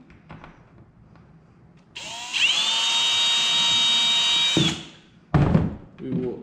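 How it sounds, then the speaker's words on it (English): A power drill bores pilot holes into an Old Town Salty 120 PDL pedal kayak while a fish finder is fitted: a loud, steady, high whine for about three seconds, followed by a couple of hollow thunks. "Now we will drill our pilot holes"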